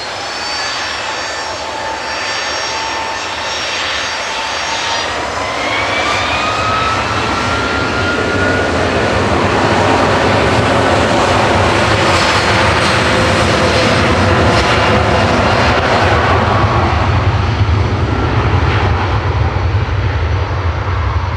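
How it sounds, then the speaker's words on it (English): A Boeing 757 departs Manchester Airport: a high engine whine sweeps upward over a rumbling base, then the roar swells to a loud, sustained, full-bodied blast as it climbs. "The best 757 departure we've had"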